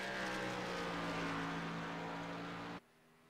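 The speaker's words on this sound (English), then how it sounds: "That sounds like he's slowing down." A race car engine in the iRacing game at ISM Raceway drones loudly and steadily, holding high and then cutting off abruptly, leaving only quiet background hum.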